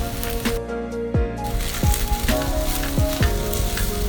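Corn sweetened with a little brown sugar sizzles in a pan as its liquid cooks off, a loud close crackle broken by several sharp spatula scrapes and taps.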